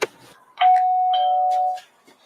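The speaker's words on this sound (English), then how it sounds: "Nifty little doorbell they got there." A house doorbell rings once with a clear, sustained electronic chime that holds steady for about a second before cutting off, near and loud, with brief soft voices around it.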